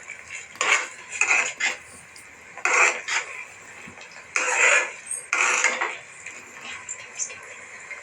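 Metal spoon scraping and clattering against a pan while rava is stirred into boiling water for rava kichadi, in irregular bursts of knocks and scrapes with quieter gaps between.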